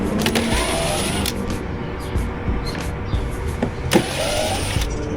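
Electric motor whine of a Power Wheels Mustang ride-on toy car running, a steady mechanical hum with rattles and a few sharp clicks and bumps, fairly close and continuous.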